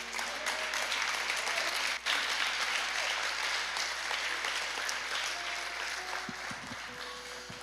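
A church congregation applauds and cheers in a continuous, fairly distant wash of clapping, with a few brief voices rising near the end.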